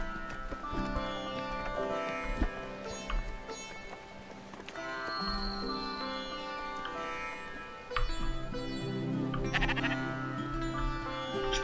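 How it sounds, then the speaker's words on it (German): Sheep bleat repeatedly in the video game Spiritfarer, with wavering calls rising over a busy bed of game music and effects, moderately loud, and with no talking. "Und wir haben ein zweites Schaf."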